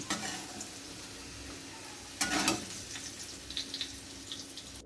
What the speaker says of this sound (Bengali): আলু বরবটি ভাজা হয়ে গেছে এগুলো আমি তুলে নিচ্ছি